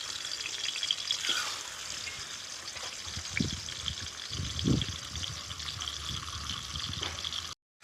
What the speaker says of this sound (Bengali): তেলটা গরম হয়ে গেছে, মাথাগুলো দিয়ে দিলাম।